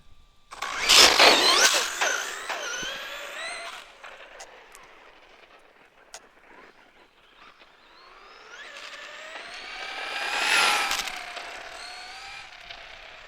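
A Traxxas Stampede RC truck on a 3S battery launches with a loud, rising electric motor whine that fades as it speeds away. Later it swells again as the truck makes a fast pass close by.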